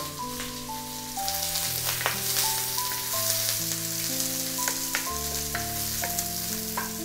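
Onion frying in hot oil in a wok, a steady crackling sizzle that swells after the first second and continues with scattered pops, alongside tonal background music.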